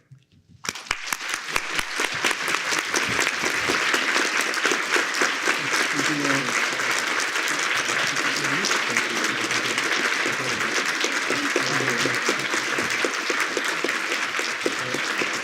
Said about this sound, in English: please join me in one final round of applause